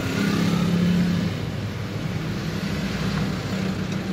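Toyota Avanza engine turning over and settling into a steady idle after a keyless remote start, a close, continuous low rumble with a slightly louder surge at the start.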